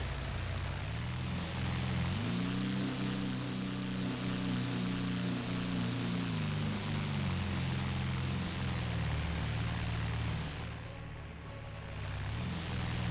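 Propeller airplane in the simulation game Workers & Resources drones steadily as it approaches the runway, a loud continuous engine hum with shifting pitch, dipping briefly near the end before swelling again.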